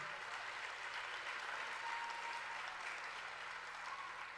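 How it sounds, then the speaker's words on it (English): A large concert crowd applauds after a song performed with a 40-piece symphony orchestra, a steady wash of clapping that fills the hall, sustained and fairly distant. "I wasn't even fishing for the applause"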